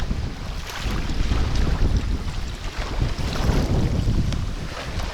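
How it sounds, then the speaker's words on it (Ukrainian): Strong wind buffets the microphone with a steady roar, while choppy waves on the Dnieper River slosh and splash underneath throughout, with no voices. "Піднявся дуже сильний вітер. Дивіться, які хвилі."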